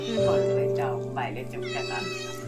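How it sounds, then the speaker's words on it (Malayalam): A cat meows several times at a home gathering where a cake is being cut, the calls rising and falling over a steady background hum and mixed with people talking nearby. "പൂച്ച പൂച്ച."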